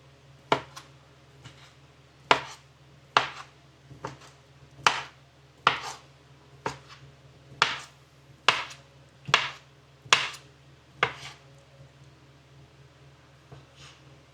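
A knife chops smoked sausage into pieces with about a dozen sharp, evenly spaced thuds, each a crisp close-up strike with brief pauses between.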